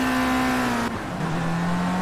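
Race car on rain tyres in the game Project Cars, its engine droning at a steady high pitch, dropping briefly as it shifts gear before settling into a slightly lower tone, loud and with no voices.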